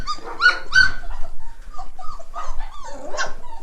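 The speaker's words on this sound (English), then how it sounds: "Miss Rose and Halvar gave us some of the most cutest puppies ever" Several puppies nearby in a stall let out a string of high whimpers, yips and small barks, close and lively.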